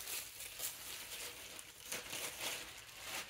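Tissue paper crinkles and rustles softly and continuously as a knit baby bonnet is unwrapped, a faint, close crackle with no talking.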